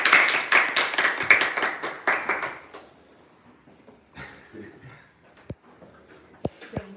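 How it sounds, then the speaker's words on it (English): A small audience applauds at the close of a talk on integrity, with a short burst of brisk, close hand clapping that thins out and stops, followed by a few scattered taps and knocks in a quiet room. "Applause"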